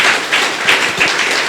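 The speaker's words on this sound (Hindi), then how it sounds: "जोरदार ताली होनी चाहिए भाई।" Audience applause in a hall welcoming BK Rajubhai at a spiritual gathering, a dense, steady wash of hand claps with a few louder bursts, close and sustained throughout.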